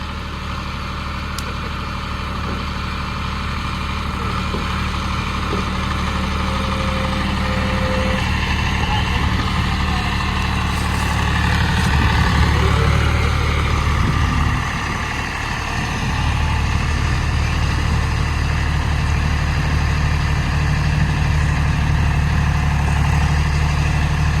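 A tractor engine idles on a farm with a steady, continuous low rumble, holding an even level throughout with no talking.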